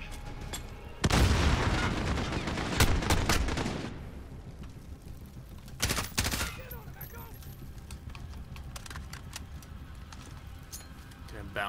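Machine gun fire in the Call of Duty Modern Warfare video game crackles in loud bursts, then continues as scattered shots under voice chat.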